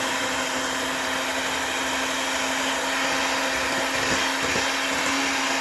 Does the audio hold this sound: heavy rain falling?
no